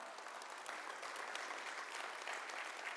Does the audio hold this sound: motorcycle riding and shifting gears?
no